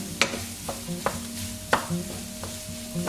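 Shrimp being stir-fried for shrimp fried rice sizzles close up, with a few sharp spatula clacks and scrapes against the pan over the steady hiss.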